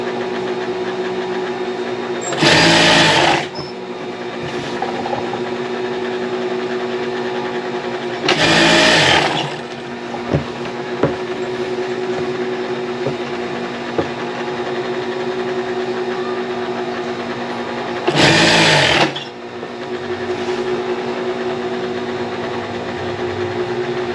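Sewing machine stitching a thick customized foam cover: three loud bursts of rapid stitching, each a second or two long, separated by quieter stretches of a steady motor hum and handling.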